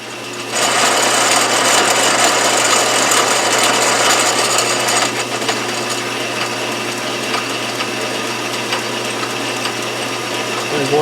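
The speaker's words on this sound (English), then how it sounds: "I'm cutting out a little groove for the thread relief, the back out of my thread." A 1931 South Bend 11-inch lathe cutting a thread relief groove runs loud and close, a steady whirring gear drive with a brighter cutting hiss in the first half that then eases off.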